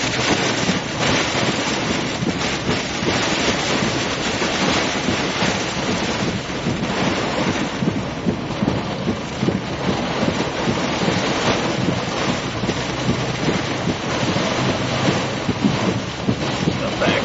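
Strong wind roaring into the microphone during a tornado chase in Illinois, a loud, continuous, buffeting rumble that barely lets up.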